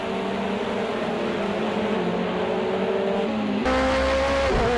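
An LMP2 prototype race car roars past in Project Cars 2 at the Dubai Autodrome, its engine a steady loud drone that jumps sharply in pitch and volume as it closes in.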